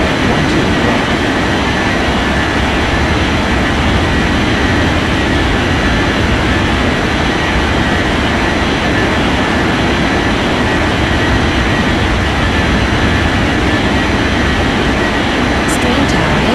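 An airliner taking off from runway 12 right in the Unmatched Air Traffic Control game: a loud, constant engine roar holds steady throughout, dense and unbroken, with speech mixed in.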